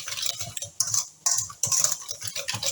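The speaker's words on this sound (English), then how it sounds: "Now I'm going to grab a whisk and I'm going to whisk it." A metal whisk beats Swiss meringue buttercream in a bowl, clinking and scraping in quick rhythmic strokes with brief pauses, close and fairly loud.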